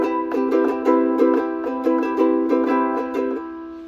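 Ukulele strummed continuously in a repeating pattern, bright chords ringing with regular rhythmic strokes at close range, each group of strums followed by a brief accent, with no talking.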